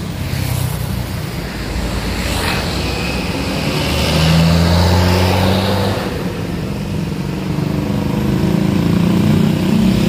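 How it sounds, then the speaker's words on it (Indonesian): A Prima Inti Karya 147 bus pulls away from Binorong bus terminal, its engine a loud, broad rumble that rises in pitch and strengthens midway, mixed with wind noise across the microphone. "Asli Prima Inti Karya 147 langsung meninggalkan terminal Binorong"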